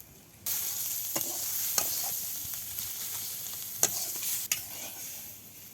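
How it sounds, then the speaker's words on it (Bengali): Ground spice paste with salt, chili and turmeric sautés in a pan, a close bright sizzle that starts abruptly and holds steady, punctuated by a few sharp scrapes and clinks of the stirring spoon, no voices. "মশলাগুলো এবার সুন্দর করে কষিয়ে নেব।"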